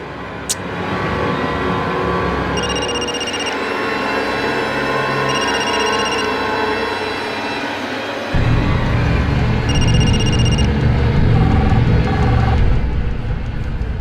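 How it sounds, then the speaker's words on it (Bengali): A phone rings repeatedly and goes unanswered, its electronic tone repeating in bursts over a loud running car engine that grows louder partway through. "এই ফোন কেন ধরছে না?"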